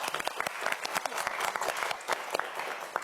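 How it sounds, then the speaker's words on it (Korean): A studio audience on a television quiz show claps together in a short burst, a bright, close, evenly sustained patter of many hands lasting a few seconds. "자, 박수 한번 보내주세요."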